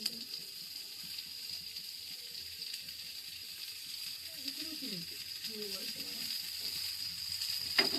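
Carrots and beans sauté in a pan, a steady soft sizzle running throughout, with faint clinks and stirring scrapes of a utensil near the end.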